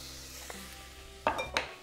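Tomato soup vegetables sweating in a pot over low heat give a soft, steady sizzle, broken by a few sharp clinks and scrapes of a utensil against the pot near the end, close and quiet.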